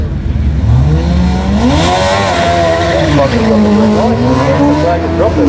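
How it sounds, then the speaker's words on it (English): A race car at a sprint meeting drives the circuit, its engine note rising and falling in loud, sustained sweeps as it revs and shifts, with commentary talk running underneath throughout. "Car 93 out on the circuit right about now"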